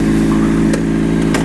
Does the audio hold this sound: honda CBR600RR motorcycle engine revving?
yes